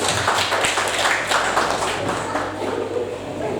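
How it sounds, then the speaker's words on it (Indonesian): A classroom group of students applauds a presenting group, a continuous burst of many hands clapping close by that lasts a few seconds. "Kasih aplaus buat kelompok 1"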